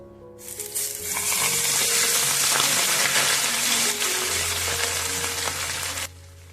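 A whole large pomfret rubbed with salt and turmeric frying in hot oil in a pan, a loud dense sizzle that starts abruptly, holds steady for several seconds and then cuts off, with no talking.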